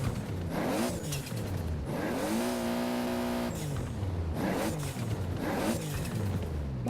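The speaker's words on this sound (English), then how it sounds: "the additional turbo spool also sounds really great in my opinion" Steady Toyota Supra RZ engine in Forza Horizon 4 revving up and down through the gears, with a rising whistling turbo spool over the roar, loud and continuous.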